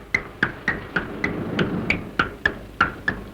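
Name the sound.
child imitating a horse running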